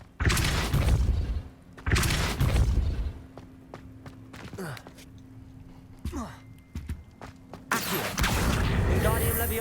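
A Depulso force spell hits in Hogwarts Legacy, with loud booming blasts and shattering impacts among softer mechanical clicks and thuds, and a voice speaks over part of it.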